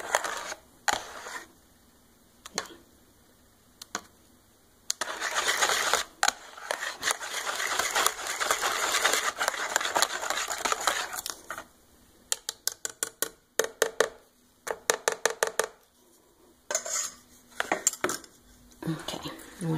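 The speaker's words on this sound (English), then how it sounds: "Whisk it real good." A whisk clatters against a dish while stirring a thick KaLangFen mixture, quick metallic clinking in rapid rhythmic bursts separated by short pauses, close and fairly loud.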